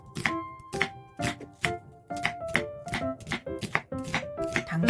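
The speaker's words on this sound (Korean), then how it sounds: "양파를 적당한 크기로 썰고" A knife slices an onion on a cutting board in a steady series of crisp, close chopping strikes, about two per second, with no voices.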